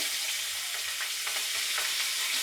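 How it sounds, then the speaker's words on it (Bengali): Nigella seeds and green chili frying in hot oil, a dense, even sizzle that stays close and loud throughout, with slight stirring movement underneath. "একটু নাড়াচাড়া দিয়ে ভেজে নেব।"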